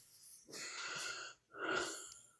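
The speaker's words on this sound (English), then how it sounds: "I can hear the mouth breathing." Heavy mouth breathing comes through a live phone-in call, two long raspy, wheezy breaths separated by a short pause, close to the mic and fairly faint.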